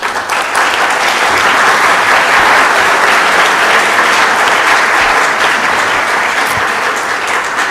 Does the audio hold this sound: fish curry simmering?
no